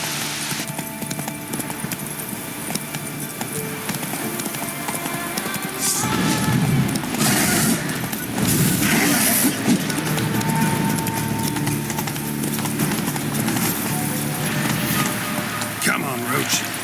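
Horse Roach trotting in The Witcher 3 video game, a steady clip-clop of hooves on ground with rhythmic hoofbeats, growing louder midway with some rustling, a voice talking in the game.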